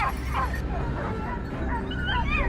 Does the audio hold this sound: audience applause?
no